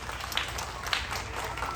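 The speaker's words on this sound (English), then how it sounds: "Round of applause for Vlad." Brief burst of audience applause during a story-time show aboard a Carnival cruise ship: a short patter of scattered clapping mixed with crowd voices and talk.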